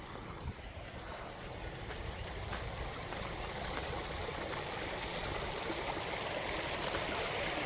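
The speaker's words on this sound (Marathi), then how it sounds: "मस्त बह रहा है पाणी." The Narmada River rushes and gurgles in a steady, dense wash of flowing water, close and continuous throughout with no voices.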